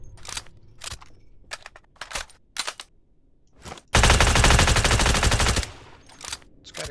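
AUG rifle fire in the shooter game Badlanders: a string of separate single shots at uneven intervals, then a loud sustained burst of rapid automatic fire lasting nearly two seconds, followed by a few more single shots.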